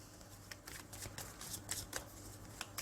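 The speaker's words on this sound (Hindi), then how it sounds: "फाइनल शफल बाबा जी" Tarot cards being shuffled by hand, a steady flurry of soft riffling slaps and papery flicks, close and fairly quiet, with a low hum underneath.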